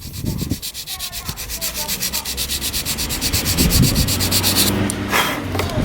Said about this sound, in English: we didn't need too much sanding there